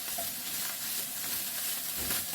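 Vegetables for japchae stir-frying in a pan, a steady close sizzle and hiss with faint stirring scrapes running the whole time.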